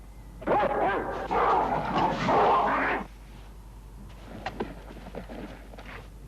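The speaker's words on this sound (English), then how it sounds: "Get away from the dog." A dog yips and whimpers in an excited burst of short barks for a few seconds, then quieter scuffling and footsteps follow, close by in a tense indoor scene.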